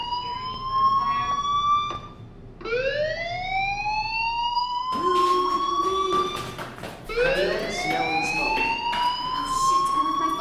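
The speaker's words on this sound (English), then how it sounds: "do you hear that fire alarm? That means you should be outside." A school fire alarm in the 2015 video game Life Is Strange wails in loud, repeating rising sweeps, about four whooping cycles back to back with no talking.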